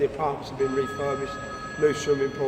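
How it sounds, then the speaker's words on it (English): A mobile phone rings at a boxing gym during an interview, its repeating electronic tone sounding steadily beneath someone talking. "That's my phone. I won't answer."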